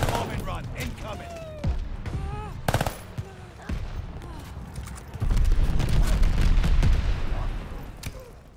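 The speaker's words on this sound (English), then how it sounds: "Allied forward bombing run." Deep booming explosions roll in during a bombing run in Call of Duty: Vanguard, loudest in a sustained rumbling barrage in the second half, with scattered gunshots and in-game voices before it.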